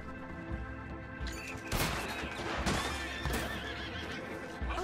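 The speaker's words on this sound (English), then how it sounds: "I'll shoot my horse." Gunshots aimed at a horse in Red Dead Redemption 2, several sharp cracks and a rapid burst mixed with loud whinnying and hoof clip-clop, close and busy.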